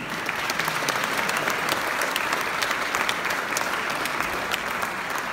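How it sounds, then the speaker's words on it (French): An audience at a company's fifth-anniversary speech bursts into steady, dense applause, a continuous even roar of many hands clapping with no talk over it. "vous pouvez vraiment vous applaudir"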